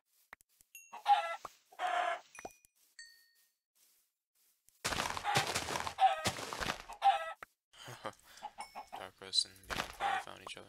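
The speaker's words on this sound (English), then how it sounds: "Oh, there's a lot of chickens here." Minecraft-style chickens cluck in short separate bursts during UHC gameplay, then a denser run of clucks and squawks, interspersed with quiet gaps and faint game sounds.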